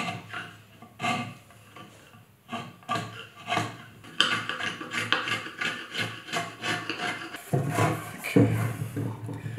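Dried beads of glue are scraped off a wooden bass guitar body with a walnut centre, giving a run of sharp, uneven scraping and rubbing strokes, close and fairly loud, with a quieter stretch before the pace quickens.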